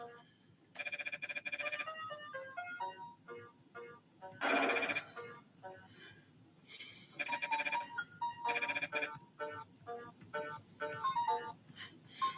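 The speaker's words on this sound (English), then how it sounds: "There's dial tone." A dial-tone track from the Deltarune video game soundtrack plays as bright, ringing electronic tones in choppy bursts and repeated beeps, with sharp louder stabs throughout.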